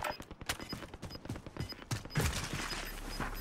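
Gunfire in Call of Duty: Modern Warfare Warzone, a rapid, irregular series of sharp shots at moderate distance with mechanical clicks between them, fairly faint overall.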